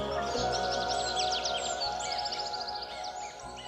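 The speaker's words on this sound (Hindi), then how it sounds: "पक्षियों की मधुर आवाज" Many birds chirp and sing together in a forest near a waterfall in Uttarakhand, India, dense, overlapping calls over a steady background hum, continuous and fairly close throughout.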